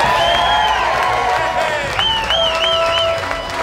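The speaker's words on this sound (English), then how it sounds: "with a big round of applause, to Senator-elect Patrick O'Connor." A crowd applauds and cheers for Senator-elect Patrick O'Connor, dense steady clapping with whoops and shouts running throughout, loud and close.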